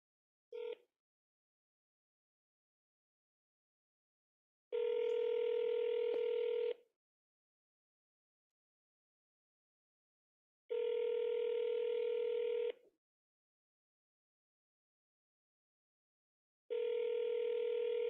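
A telephone line sounds a steady electronic tone in long bursts of about two seconds, separated by several seconds of silence, loud and clean with no talk.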